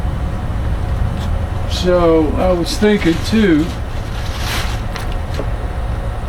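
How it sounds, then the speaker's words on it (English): A Johnson outboard boat motor, just started, runs with a steady low rumble and engine drone nearby while someone talks over it outdoors. "All right, so we got Erica's motor to start."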